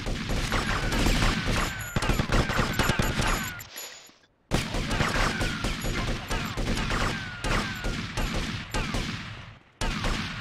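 Rapid bursts of gunfire in the video game GTA Vice City, loud and dense with a brief pause midway and a short break near the end.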